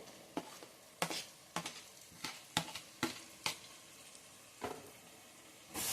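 Tomatoes with curry leaves frying in a pan for puri uppittu, a faint, steady sizzle broken by a series of sharp spatula scrapes and clicks against the pan, spaced irregularly about every half second, no talk.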